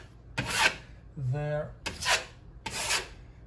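A putty knife tools drywall patch filler over screw holes in a small repair, giving three short, close rasping scrapes separated by brief talk.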